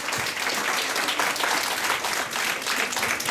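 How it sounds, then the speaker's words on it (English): Steady, thick applause from a conference hall audience at an international business conference, a continuous even wash of many hands clapping at once. "Can we have a round of applause?"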